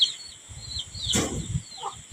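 A hen with newly hatched chicks gives soft, low clucks beneath thin high peeps, all quiet and over in a couple of seconds.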